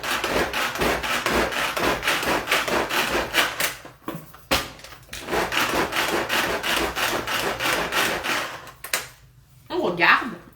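Shrimp samosa filling chopped in a lidded food chopper, a loud rough grinding whir in repeated bursts with short pauses, close up, ending in a brief stop and another pulse.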